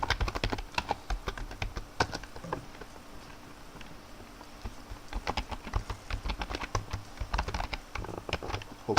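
Quick bursts of typing on a computer keyboard while entering a password, crisp close key clicks in uneven runs separated by short pauses, with no talk.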